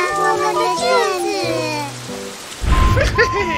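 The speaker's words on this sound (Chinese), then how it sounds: "室内考就不怕下雨了。" Cartoon rain sound effect: after a stretch of animated character voices, a sudden wash of steady rain-like hiss rises and fills the last second.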